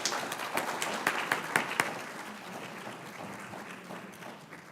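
A crowd claps at a pediatrics graduation ceremony, with sharp bursts early that thin into lighter, scattered clapping toward the end; no voices stand out.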